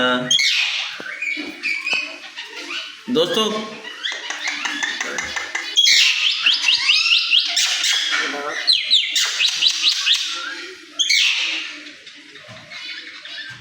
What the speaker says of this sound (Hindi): देखो दोस्तों मैना बोलती है